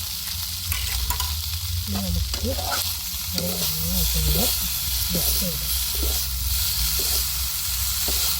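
Noodles being heated in a hot pan: a loud, steady sizzle and hiss throughout, with a person talking over it.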